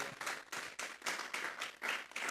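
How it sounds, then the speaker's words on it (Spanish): A church congregation claps hands together as an offering to God during a sermon, a rapid rhythmic applause of many hands with regular pulses, steady and fairly close, with no talking. "Vamos a darle una ofrenda de palmas a Dios en esta hora."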